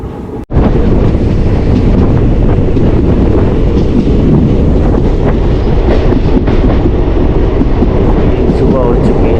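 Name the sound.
passenger train moving after leaving Churu station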